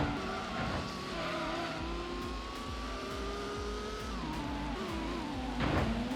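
Tuned race cars in a Gran Turismo GT Mode cup race roar loudly and continuously, engines revving with rising and shifting pitch and tires squealing near the end, with no talking over it.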